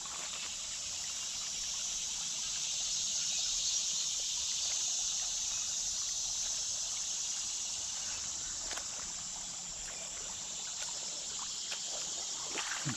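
The Buffalo River flows softly as a faint, steady trickle along a footpath, largely blended under continuous high-pitched insect chirping.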